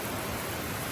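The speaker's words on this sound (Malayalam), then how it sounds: "നല്ല മഴ." Steady rain falls outside a hospital doorway, a continuous hiss of drops that stays even and fairly soft for the whole moment, with no voices.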